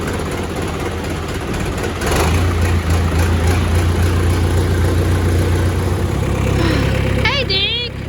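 A vehicle engine in neutral with the brake set runs at a steady low idle, a loud continuous rumble that thickens after a couple of seconds, with a brief higher squeal near the end.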